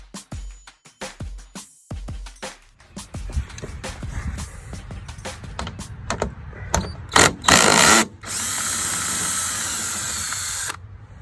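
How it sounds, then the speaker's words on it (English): Short bursts of a power drill with a 10mm socket and extender whirring on and off near the mic while removing bolts under a Ford F-150, with clicks and clanks between, ending in a longer sustained high whine. "I elected to go with the power drill and the socket, 10mm socket with the extender"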